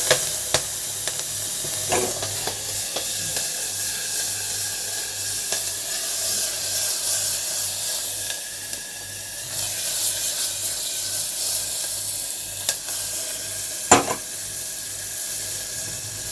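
Chopped onions sizzle steadily in a hot pan while cooking chicken stew, a broad continuous frying hiss with a few scraping stirs and clinks scattered through, close and fairly loud with no talking.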